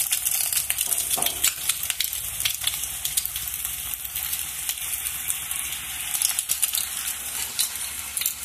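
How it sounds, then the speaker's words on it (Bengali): Stuffed egg flatbread fries in hot oil in a wok, giving a dense, steady sizzle and crackle that runs the whole time at close range with no talking. "দেখো কড়াই বসিয়ে দিয়েছি, তেল গরম হয়ে গেছে, এবার কি ওইটা ভাজতে দিয়ে দেবো।"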